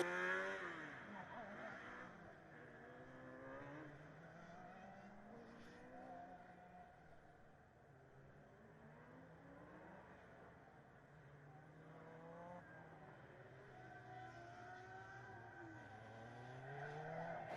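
Formula Student race cars running endurance laps on a track, engine notes rising and falling with gear shifts and passes, fairly faint and distant, heard over a long stretch with no talk.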